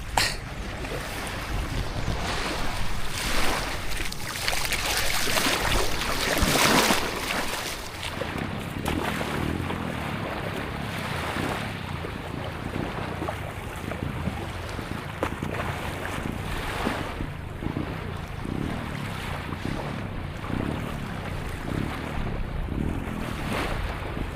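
Ocean waves at sea on the Pacific, a continuous broadband wash and churn with rushing surges and wind buffeting the microphone, loud and steady throughout with no voices.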